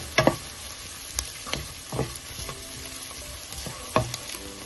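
Serrano peppers sizzle in a frying pan, with a soft, constant crackle broken by several sharp scrapes and clatters as a utensil stirs them at close range.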